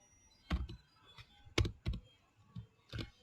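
A person types a simple Python program on a computer keyboard. Short bursts of close, crisp key clicks are separated by brief quiet pauses, with no talk.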